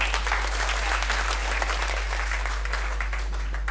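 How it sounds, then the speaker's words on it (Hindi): Loud audience applause at an RCM associate training event as a guest is invited up, dense steady clapping filling the whole stretch with a low hum underneath. "एक बार जोरदार तालियों से"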